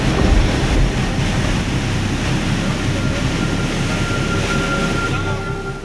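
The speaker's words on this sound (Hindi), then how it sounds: "पानी के इस वेग को देखकर लग रहा है कि जैसे ये विनाश की इबारत लिखने के लिए तूफानी रफ्तार के साथ आगे बढ़ रहा है।" Floodwater surges with great force through a mountain valley after a debris slide, a loud, steady broadband roar that holds unbroken from start to finish with no voices.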